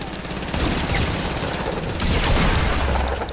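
Rapid gunfire in the Fortnite video game, a dense, continuous burst of shots and booms, loud and close throughout, with heavy overlapping reports and no voices over it.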